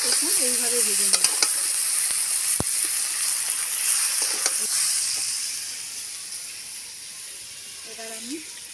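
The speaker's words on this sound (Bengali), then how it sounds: "টমেটো দিয়ে আমার ভালো করে ভাজা হয়ে গেছে, দেখুন এইভাবে ভেজে নেব।" Tomatoes frying and being stirred in a pan for methi potato fry, a loud, continuous close sizzle with scraping stir strokes, and a voice briefly talking near the start and the end.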